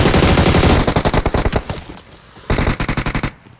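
Rapid bursts of automatic gunfire from a shooting video game, loud and close, in two rattling volleys separated by a brief pause.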